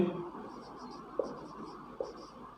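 Pen scratching on paper while writing out a maths solution, soft faint strokes with two small taps, under a quiet room background.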